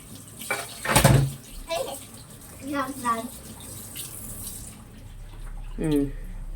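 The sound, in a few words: running tap water while rinsing dishes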